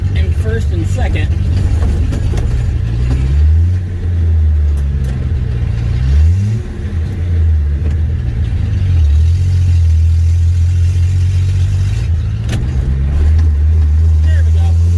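A Rambler car's engine drones loudly while driving in first and second gear, a steady low rumble with pitch that rises and falls as it accelerates and shifts, close up inside the cabin.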